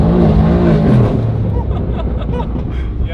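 A car fitted with a loud aftermarket exhaust revs close by, a deep throaty drone that rises and then drops into a rough burbling idle, steady and loud throughout.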